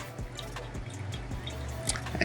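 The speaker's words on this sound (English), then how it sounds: "We're gonna pour nice and slow until we get to about 250 grams of water." Slow, thin pour of water over ground coffee in a Kalita Wave dripper, giving a faint, quiet trickle with soft repeated drip-like ticks.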